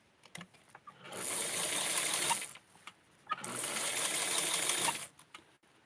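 A sewing machine stitching lace runs in two steady bursts of about one and a half seconds each, a close whirring hum with a short pause between.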